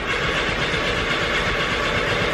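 A VW bus engine cranks and catches, producing a steady, loud mechanical roar that holds without pause throughout, dense and broadband with no voices over it.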